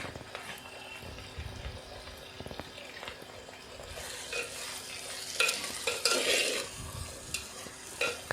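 Vegetables for a one-pot vegetable rice fry in a pot while being stirred, giving close scraping and stirring strokes over a soft sizzle that grows louder and busier toward the end, with no talk.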